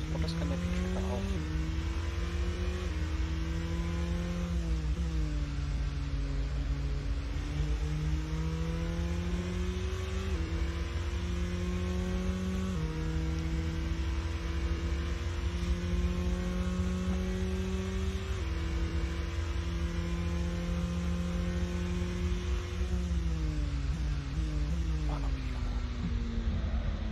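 Simulated race car engine in the Assetto Corsa racing game, droning steadily under load with the pitch climbing and then dropping repeatedly as gears shift, loud and continuous throughout.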